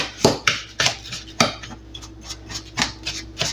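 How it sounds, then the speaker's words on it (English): A utensil scrapes and clinks against a bowl while sugar and cinnamon are stirred together for banana cinnamon bread, a few sharp knocks then quieter rubbing, close up and alone. "sugar and 1 tablespoon of cinnamon. I'm going to mix those two in together."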